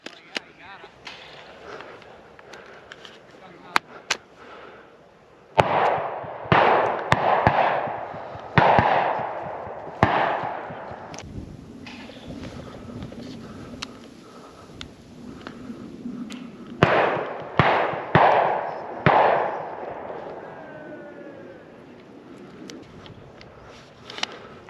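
Shotgun shots at a tower pheasant shoot: several sharp, fairly close reports in scattered bursts, some in quick succession, with people talking between them.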